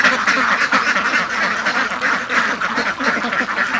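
Ducks on a farm, suffering from a lime-stool illness, quacking in a steady dense chorus of many overlapping calls, loud and close, continuing without pause.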